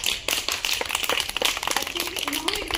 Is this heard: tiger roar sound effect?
no